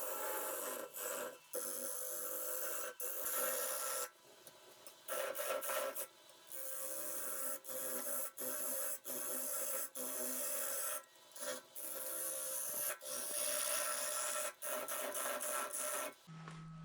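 A lathe gouge rough turning a cherry burl and cleaning off the bark: a continuous close rasping, scraping cut with short gaps and choppy interruptions where the tool lifts off the spinning wood.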